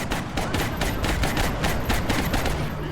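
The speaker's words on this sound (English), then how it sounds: "A big old alloy cannon shot" An alloy cannon fires in the video game XCOM Enemy Within, Long War mod, a dense burst of rapid, loud shots overlapping in a continuous fusillade.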